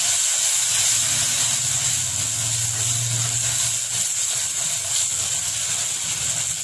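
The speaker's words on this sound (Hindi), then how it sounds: "थोड़ा सा हम इसको भूनेंगे।" Soaked raisins roast in a pan of semolina halwa, a steady broad sizzling hiss with a low rumbling undertone that runs throughout, with no voices.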